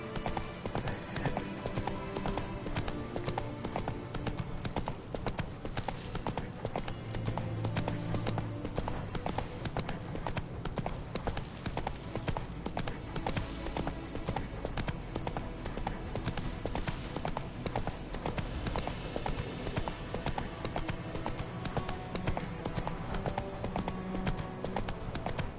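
Roach the horse galloping in The Witcher 3, a constant rapid clip-clop of hooves under dense game sound and music, loud and unbroken throughout.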